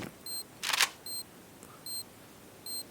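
A camera shutter clicks once in a video game, a crisp burst amid repeated short electronic beeps at a steady interval, fairly close, no talk.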